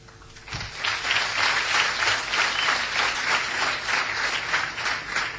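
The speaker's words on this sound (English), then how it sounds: "You're applauding yourself." An audience applauds a talk by filmmaker Kamal Haasan with a dense, sustained wash of clapping that rises quickly after a brief quiet start and holds steady throughout.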